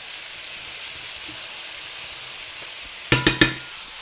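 Steady, loud hissing sizzle of spices frying in a hot pan for chicken yassa, with a few sharp clinks near the end.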